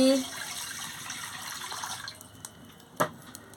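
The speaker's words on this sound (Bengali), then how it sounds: "এবার কড়াতে জল দিয়ে দিচ্ছি" Water poured into a kadai on a lit stove, cooking potato and elephant foot yam: a steady close rush of flowing water that fades out, followed by a sharp clack.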